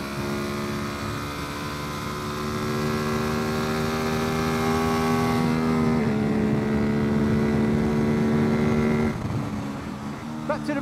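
A Ducati motorcycle at full throttle on the Silverstone GP track, its engine a loud, steady, rising whine that climbs in pitch and then drops briefly at gear changes, close and dominant throughout.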